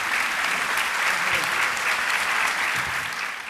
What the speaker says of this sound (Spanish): un aplauso del coro Kennedy a Silsa y a todo el trabajo que hace